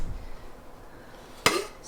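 Plates and dishes being handled while packing a camp kitchen, one sharp clatter of crockery near the end of an otherwise quiet stretch, close by.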